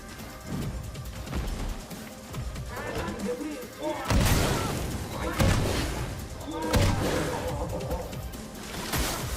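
Cannon fire during a battle in the video game Clair Obscur Expedition 33: heavy booming blasts and crashing impacts break out around the midpoint and repeat a few times over dense, continuous combat noise.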